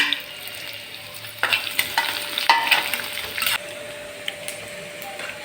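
Onion and soaked peas are stir-fried in a pan, with an irregular scrape and clatter of stirring over a soft, continuous sizzle, close and without talk.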